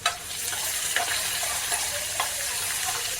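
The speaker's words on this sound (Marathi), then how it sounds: "त्यानंतर एक बारीक चिरलेला कांदा घेतलेला आहे तो आपण भाजून घेऊया" Finely chopped onion sizzling in hot oil with spices, a steady close frying hiss with occasional stirring scrapes throughout.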